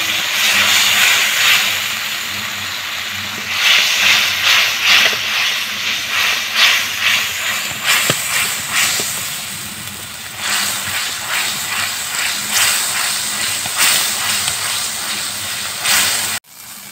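A splash of water hits a hot cooking pan and hisses loudly in repeated bursts of steam and sizzle, with a sharp clatter near the end.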